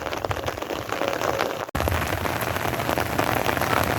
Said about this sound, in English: You can see the steady rain falling.